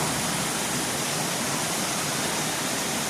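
Steady, dense roar of a waterfall near Bordners cabin in Swatara State Park, Pennsylvania, running at full flow; a continuous broadband rush held close and loud with no voices.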